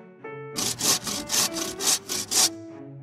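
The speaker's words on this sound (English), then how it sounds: "It's time to start sawing." A hand saw cuts into a big round wooden log with eight rhythmic back-and-forth strokes. The rasping is close and loud, and no voices are heard.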